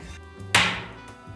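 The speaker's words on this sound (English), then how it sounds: "We start by chopping vegetables." A single sharp knife chop on a cutting board while red onion, garlic, bell pepper and tomatoes are prepared for tomato soup, with a quiet kitchen hum around it and no speech.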